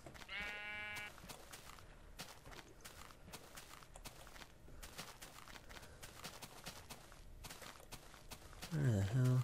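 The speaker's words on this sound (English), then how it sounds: "Look at all the fucking sheep." Sheep bleat in the Minecraft video game, with a clear bleat at the start and another loud one at the end, while footstep-like clicks patter steadily in between.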